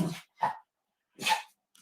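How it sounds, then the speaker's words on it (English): A pet dog barks three times in quick succession, short sharp yaps close to the microphone, with a fainter fourth yip trailing off at the end. "Caesar, my dog's giving off at me"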